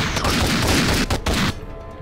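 Dense, continuous gunfire from a zombie-apocalypse survival session in Minecraft, loud rapid shots packed together for about one and a half seconds before easing off.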